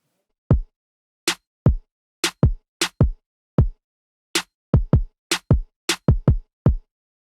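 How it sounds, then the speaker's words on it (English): A kick drum and a crisp snare play together in a simple groove, alternating low thumps and sharp cracks, close and dry with no other sounds. "the snare along with that will sound like this"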